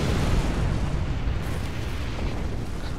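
Torpedo explosions in the space combat game Star Trek Online form a dense, continuous rumbling roar of blasts that stays loud and booming throughout, with no speech over it.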